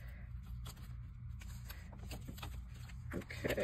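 Pages of a paper glue book flipped quickly by hand, a run of soft papery riffles and flaps up close over a low steady hum, with no speech.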